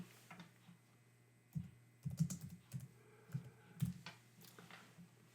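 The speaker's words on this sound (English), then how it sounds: "Let me type this in." Computer keyboard typing, quiet and close: scattered clusters of key clicks over a steady low electrical hum, with pauses between bursts and no talking.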